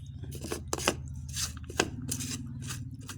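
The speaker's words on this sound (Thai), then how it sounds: "พริกผมใช้พริกสดหั่นครับ หั่นละเอียดนะครับ" A knife chops fresh chili finely on a cutting board for a Thai spicy shellfish salad, giving a quick irregular series of sharp, close cuts over faint background hum.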